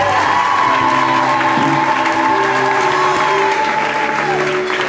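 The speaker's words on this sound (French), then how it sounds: "Acclame très fort pour Jésus" A church audience applauding and cheering loudly for Jesus at a sermon, dense sustained clapping with whoops and a voice rising over it, close and full throughout.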